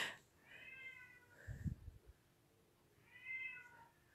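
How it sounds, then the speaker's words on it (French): A cat named Sushi meows twice off to one side indoors, fairly faint, with a soft thump between the two calls. "on voit pas Sushi, mais on l'entend, elle miaule."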